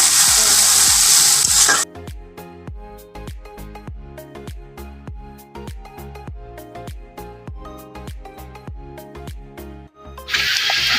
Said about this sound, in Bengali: পেঁয়াজের সাথে আমি এটাকে ঘেটে নেব।